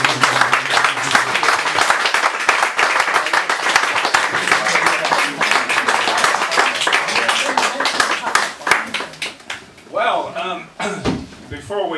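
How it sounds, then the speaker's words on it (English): Applause from a poetry-evening audience, dense clapping for about nine seconds that thins out near the end, with voices talking over it. "Call for more applause for everyone"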